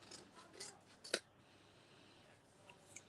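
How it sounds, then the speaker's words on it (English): Scissors fussy-cut around paper pieces for a mixed media project, producing a few quiet snips and one sharp distinct cut amid soft paper rustling, close and faint. "Cut around the bits and put our spare paper"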